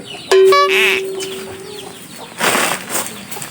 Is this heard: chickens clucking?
yes